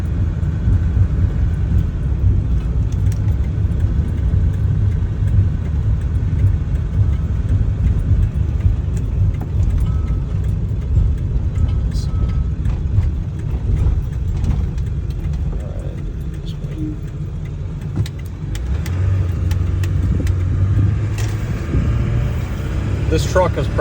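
A Ford 7.3 Powerstroke diesel truck engine with about 322,000 miles idles in a steady, loud low rumble that holds unbroken throughout, with a voice talking faintly over it.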